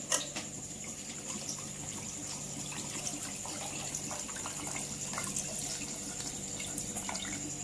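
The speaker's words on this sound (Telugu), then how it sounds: "కలిపేసుకొని చింతపండు పులుసు పోసుకుంటున్నాం" Tamarind juice is poured into a fish curry with green mango, onion, chili and tomato, making a continuous liquid pour and splash with faint drips, steady and close throughout.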